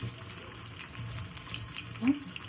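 Pieces of jitada fish fry in a little oil, a steady low sizzle and crackle with faint stirring, close and moderately quiet.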